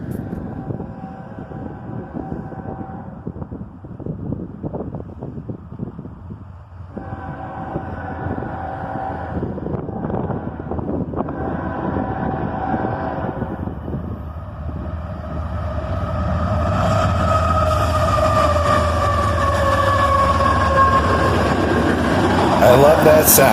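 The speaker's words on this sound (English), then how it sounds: "I love that sound as a pair of ES44 ACHs cruise southbound with a manifest train." A southbound CSX manifest freight train led by a pair of ES44AC diesel locomotives rumbles past. The low engine drone and broadband roar build and grow louder toward the end.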